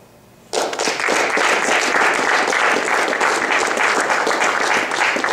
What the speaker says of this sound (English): Drivers, it's your turn to clap for them.